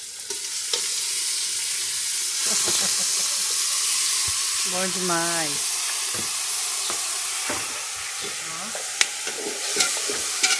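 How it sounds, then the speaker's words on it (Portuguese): Garlic and pepper sautéing in an old, nearly century-old pot over a wood-fired stove, a steady hissing sizzle with stirring clinks, while people talk briefly over it. "Olha o chiado."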